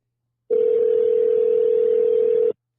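Telephone dial tone while a call is placed, one loud continuous steady tone lasting about two seconds, starting and stopping abruptly out of silence.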